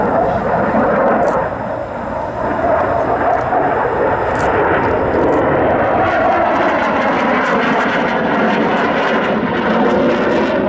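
MiG-29 Fulcrum jet engines at an air show, a loud, continuous roaring rumble that holds steady for the whole stretch, with brief faint ticks early on and no talk.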